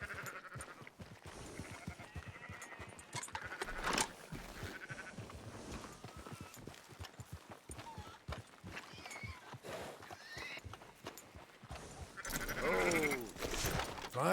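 Sheep bleat repeatedly at an auction yard in the game Red Dead Redemption 2, overlapping close and distant calls with clip-clopping hooves and shuffling livestock noise, and a loud cluster of bleats near the end.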